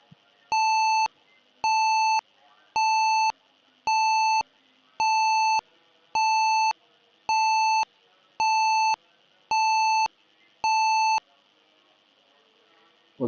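Buzzer in an IoT project, triggered when the temperature drops below 15: ten evenly spaced, identical loud electronic beeps in a steady rhythm, each lasting about half a second with quiet between them, heard alone.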